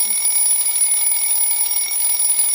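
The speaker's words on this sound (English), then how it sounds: "my alarm clock exploded into chaos, shaking me out of my dreamland" An alarm clock rings loudly and continuously, a shrill, steady electronic tone with fast pulsing and no pause, close to the listener.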